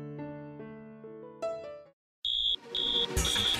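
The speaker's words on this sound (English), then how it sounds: "Holy crap, that's the fire alarm." A school fire alarm: after a sustained tonal blare with a short pause, a loud electronic alarm sounds in repeated shrill beeping bursts, close and alone.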